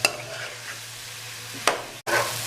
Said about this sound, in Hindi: अब हम इसको मिक्स कर लेंगे और मज़ीद 5 से 6 मिनट यानी कौरमा तैयार होने तक पकाएंगे